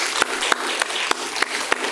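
Congregation applause at a Sunday church service honoring a missionary, a steady even patter of clapping with a few sharper distinct claps punctuating it at regular intervals.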